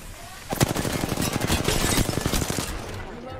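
Automatic gunfire in the battle royale game Apex Legends, with rapid loud bursts of shots that start sharply and run almost continuously for about three seconds, close and dense, then cut off.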